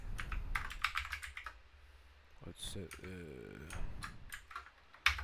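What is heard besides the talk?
typing on a computer keyboard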